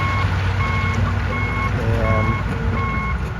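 A stuck dump truck's reverse alarm beeps steadily in an even, repeating rhythm over a constant low engine rumble, loud and close, with no talking.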